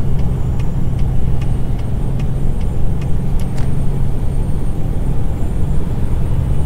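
Diesel truck engine in American Truck Simulator pulling a load, a steady loud low rumble building continuously, with faint high mechanical ticks above it and no talking.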